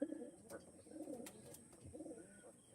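Old-breed domestic pigeons cooing softly in repeated low, throaty phrases, fairly close but quiet, with faint background noise.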